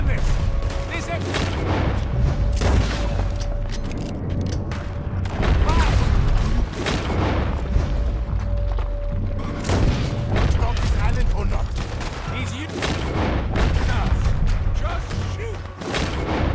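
Dense gunfire from a shootout in Red Dead Redemption 2 rolls on without pause, rapid shots and heavy booms layered over a constant low rumble, loud and close throughout.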